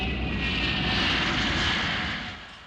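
A MiG-242 jet aircraft roars past, a loud, steady broadband rush that swells and then begins to fade toward the end, with no voices over it.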